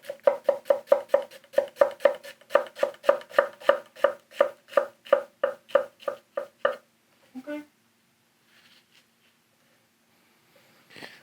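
Santoku knife chopping an onion on a board, a steady run of about twenty crisp evenly spaced knocks, close and loud, then a pause, a couple of softer taps and quiet handling.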